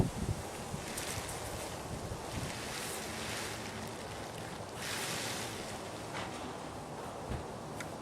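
Wind gusting steadily against a pyramid tarp pitched outdoors, a broad continuous rushing with swells of stronger gusts, loud and close to the microphone with no voices.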